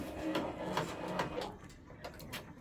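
A 10-needle embroidery machine stitches a decorative design, a faint, fast, steady ticking and tapping run at low level without talk.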